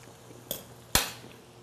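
A fork clinks twice against a plate while someone eats pesto linguine with shrimp, a light tap followed by a sharper, louder clink, close and otherwise quiet.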